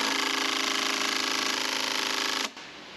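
A loud power tool whirs steadily for a couple of seconds, then cuts off abruptly, leaving a quieter background hum.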